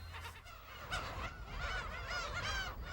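Black-tailed gulls call repeatedly in a coastal breeding colony on a Korean island, giving harsh, mewing, goose-like cries that overlap one another at moderate distance.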